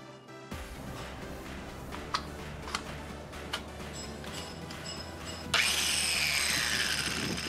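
A steel bar clamped in a vice is cut to free a piece for a knife blade, giving a steady rasping cut with a few sharp clicks, then a louder, brighter grinding hiss near the end.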